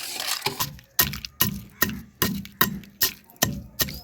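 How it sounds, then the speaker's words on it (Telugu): Urad dal, fenugreek, mustard seeds, garlic and dried chillies pounded in a mortar, a steady series of about nine sharp, close thudding strikes roughly half a second apart. "ఉద్ది బ్యాళ్ళు, తర్వాతకి మెంతులు, ఆవాలు, ఎల్లిపాయలు, ఎండు మిరపకాయలు ఇవన్నిటిని ఫస్ట్ అయితే దంచుకుందామండి"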